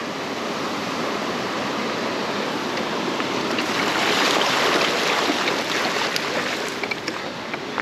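A mountain bike splashing through a shallow water crossing, a steady loud wash of spraying water and rushing wheels that swells toward the middle of the ride, with no talking.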